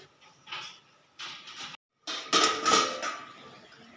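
A lid goes onto a pan of tomatoes cooking for a dhaba-style vegetable dish, with metallic clatters and scrapes followed by a brief louder clank of metal on metal.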